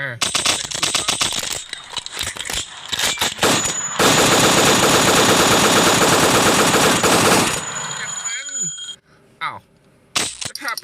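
Rapid automatic AK gunfire in a video game, in sustained bursts, loud and close, with a long unbroken stretch in the middle before it cuts off and a few quieter shots follow.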